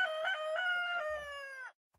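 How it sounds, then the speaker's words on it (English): A rooster crows in the TerraFirmaCraft video game, one loud, clear cock-a-doodle-doo lasting under two seconds, heard alone and close. "forgot about the rooster."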